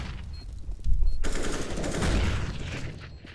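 Automatic gunfire in the competitive shooter CS:GO, a quieter stretch of firing that turns into a loud, sustained burst of rapid shots about a second in, continuing densely to the end.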